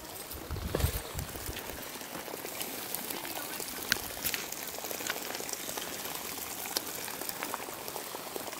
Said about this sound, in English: Wow, it's bubbling up out of the earth.